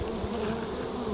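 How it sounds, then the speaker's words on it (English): Honey bees drone steadily around an open hive on a hot day, a dense, close, continuous buzz with no voices. "Bees aren't too happy today because it's hot."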